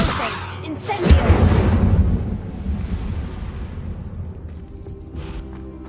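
Fiery spell burst from the Incendio charm in the Hogwarts Legacy video game, a loud whooshing blast that swells early and then fades into a lingering rumble, with spoken voices mixed in.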